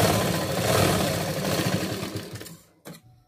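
A sewing machine runs steadily while double-stitching a tucked blouse, its fast whirring hum continuous for a few seconds before slowing to a stop, followed by a brief faint restart.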